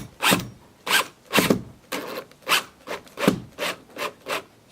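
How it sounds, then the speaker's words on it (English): Screws being done up into a plastic Hobie Wave Traveler fitting, heard as about ten close, rasping turns in a steady rhythm, each a short scraping burst separated by brief pauses, with no talking. "now we'll do up our screws."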